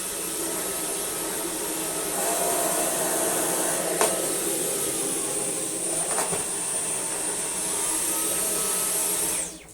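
A V11 cordless vacuum cleaner runs on carpet tiles with a steady high whine and airflow roar close by, with a couple of brief clicks, winding down at the end.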